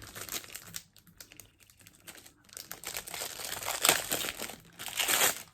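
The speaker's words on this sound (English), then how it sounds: "See if I can get it out of the plastic." Close-up crinkling and crackling of a plastic pouch as makeup brushes are worked out of it, in irregular bursts of varying loudness.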